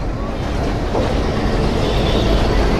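A train rumbles into Kushtia railway station with a loud, steady roar of wheels and wind noise throughout.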